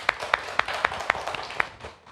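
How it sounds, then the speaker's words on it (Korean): A church congregation claps together briefly, a cluster of sharp, evenly spaced hand claps close by that fades out after about two seconds. "박수 한번 쳐주세요"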